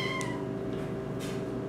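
A house cat meows near the microphone indoors, a clear drawn-out call followed by a shorter second meow over a steady background hum.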